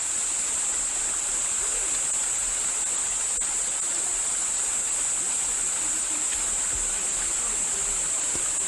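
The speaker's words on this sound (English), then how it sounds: "It's like a waterfall that comes down off the rocks." Continuous rushing water from a waterfall flowing over rocks in Gyeongju fills the scene, a steady hiss of falling water with no pauses or voices.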